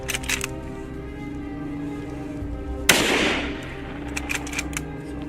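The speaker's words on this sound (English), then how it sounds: "The sound of the gunshot echoes." A single sharp gunshot fired at a charging wild boar on farmland, one loud crack partway through with a short decaying tail, set against steady low background noise and a few faint clicks.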